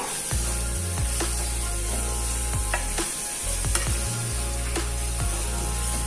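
Masala sizzling and frying in oil on a small stone pan for a coconut fish fry, a steady crackling hiss broken by several sharp scraping stirs and clinks of a utensil against the pan.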